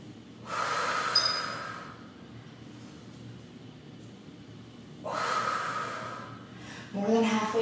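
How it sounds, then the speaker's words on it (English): Heavy, forceful exhalations come in two long breathy bursts during a dumbbell strength workout, close and loud, with a voice starting at the very end. "Keep breathing."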